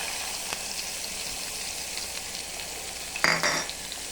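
Chopped onion fries for dal in hot oil with garlic, green chilies and asafoetida, giving a steady soft sizzle with a few light clinks and a brief louder scrape of stirring near the end.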